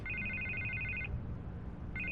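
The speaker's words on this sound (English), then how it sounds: "I can't get the phone to stop ringing." A telephone rings in Batman: The Telltale Series, a steady electronic trilling ring that runs for about a second, breaks off, then starts again over a low ambient background.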